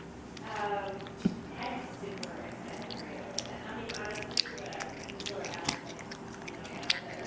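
Toddler chewing gum for the first time, with soft wet smacking and squishing sounds close up, small clicks now and then, and faint voices and room noise behind.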